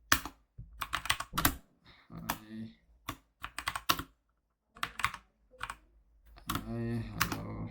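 Typing on a computer keyboard at a Linux terminal on a Red Hat system, heard as bursts of quick key clicks with short pauses between them, fairly close and alone with no talk.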